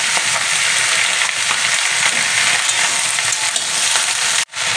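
Vegetables frying with chopped tomato and green chili in a pan, a loud steady close sizzle throughout, cut off abruptly near the end, with no talking.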